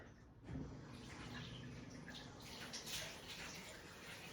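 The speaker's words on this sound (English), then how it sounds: "Let me put some fucking water in my fucking hair." Running water pours steadily from a tap onto hair, close by, with a continuous splashing hiss that swells slightly partway through.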